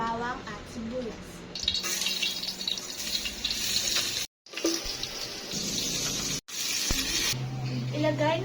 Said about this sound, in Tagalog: Igisa na natin ang bawang at sibuyas.